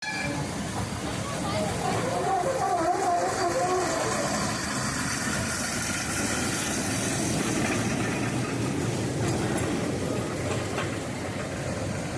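Continuous rumbling clatter of a moving train at the ICF rail museum in Chennai, steady and loud throughout, with mechanical rattling and a low engine drone.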